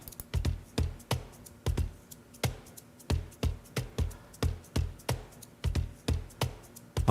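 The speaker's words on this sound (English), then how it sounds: "So without the samples, the cajon sounds like this." Cajon played dry without snare samples, a steady rhythm of sharp, close percussive hits with deep thumps and crisp slaps, natural and unprocessed, no voices.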